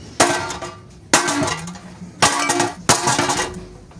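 A hole is punched into a metal gas tank ahead of low-temperature aluminum welding: four sharp metallic impacts, each ringing briefly before fading, spaced unevenly and heard close.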